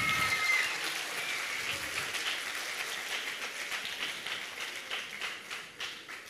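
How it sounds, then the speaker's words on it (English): Audience applause for young singers at an Education Week opening ceremony, a dense wash of clapping that is strong at first and then slowly thins and fades. "Give them another round of applause."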